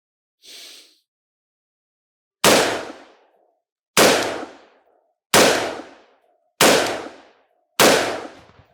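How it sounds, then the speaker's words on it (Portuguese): Five loud, close rifle shots of SS-109 5.56 ammunition fired at a target, spaced roughly a second or so apart, each a sharp crack with a short echoing tail; a brief softer rustle comes just before the first shot, with no talking. "agora 5 disparos de SS-109"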